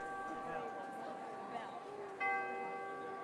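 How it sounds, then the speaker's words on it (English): A church bell tolls at the opening of a show, with sustained ringing tones over a dense backdrop and a fresh, louder strike about two-thirds of the way through. "but the show begins with a bell."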